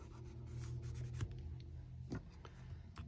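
Rub-on transfers being pressed onto journal paper with a tool, a low, steady scraping and rubbing close by with a few sharper scratchy strokes, no talking.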